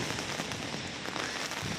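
Rain falling steadily during a downpour, a dense continuous hiss with scattered patter, fairly close and even in level, with no talking.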